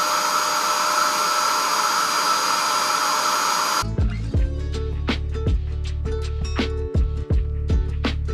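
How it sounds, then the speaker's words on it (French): A Bissell upholstery cleaning machine runs over a sofa, giving a loud, steady whirring roar for about four seconds. It then cuts off abruptly and music takes over. "Pour vous montrer comment je passe la machine, le Bicel, sur tout le canapé."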